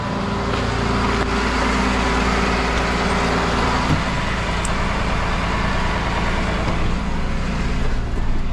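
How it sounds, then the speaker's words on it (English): A tow truck's engine idles and pulls forward during a Ford Ranger recovery, producing a steady, loud diesel rumble that is close to the microphone and continuous throughout, with no talking. "Pull my truck forward here and then make sure this thing moves"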